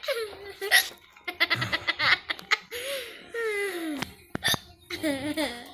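Repeated hiccups from a child after a dance, short sharp catches in the voice coming in irregular bursts amid giggles and laughter, with people talking nearby.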